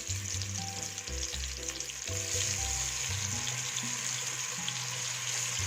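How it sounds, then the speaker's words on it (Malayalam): Spiced mushrooms frying in oil already used to fry onions, a steady close sizzle with faint bubbling, no voices. "ഇത് നമുക്ക് ഉള്ളി വറുത്ത എണ്ണയിലോട്ട് ഇട്ട് വറുത്തെടുക്കാം"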